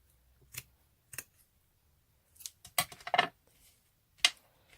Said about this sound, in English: So I just want a bit, and then just cut it again